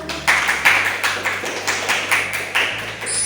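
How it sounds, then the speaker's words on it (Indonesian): Clapping in a teaching session, heard as a run of distinct, fairly loud claps in an uneven rhythm, about nine strikes, close and with little else beneath them. "boleh tepuk tangan"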